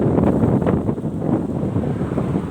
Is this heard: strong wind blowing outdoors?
yes